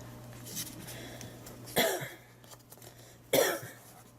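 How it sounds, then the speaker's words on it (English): Two distinct coughs a second and a half apart, close and fairly loud, over a steady low hum and quiet background. "now I have a cough too"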